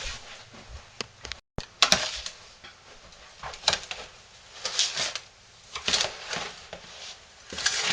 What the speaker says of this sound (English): So I'll give you a spoon, and I'll get a spoon, and we'll just start stirring.